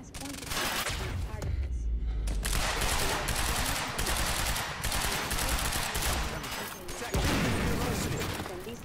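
Gunfire in the video game Quantum Break comes as dense, loud bursts of rapid shots that continue almost without pause, with a voice talking over the shooting.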